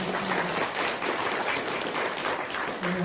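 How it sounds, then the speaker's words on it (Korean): A church congregation applauds in a dense, steady wash of clapping that holds at an even level throughout, with a short voice at the end. "우리 박수로 환영하도록 하겠습니다"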